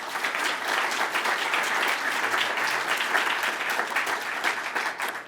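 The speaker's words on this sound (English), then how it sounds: "Let's give them one last round of applause of thanks." Audience applause at the 2022 Surrey State of the City address, a thick continuous wash of many hands clapping at a steady level for several seconds.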